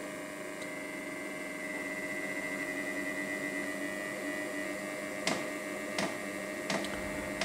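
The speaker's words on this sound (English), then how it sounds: "You can hear the fuel pump kicking on, the heater starting up, starting to blow some air through it." Diesel heater powered from a power bank's cigarette plug, starting up with a steady humming fan drone and a few sharp, regularly spaced ticks of the fuel pump near the end, close and fairly quiet, with no talking.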